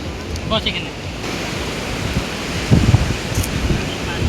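Sea waves rolling in at Mandarmani beach, a steady broad wash of surf with heavy wind noise on the microphone and a voice briefly heard.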